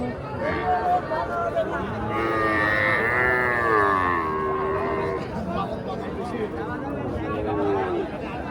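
Calves moo repeatedly at a busy cattle market in Raniganj, drawn-out bovine calls rising over steady crowd babble and people talking nearby.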